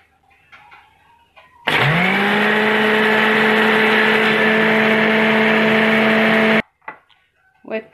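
A blender whirs loudly and steadily for about five seconds, blending garlic with oil for a garlic dip made without egg or starch. The motor cuts off abruptly, with brief talk before and after.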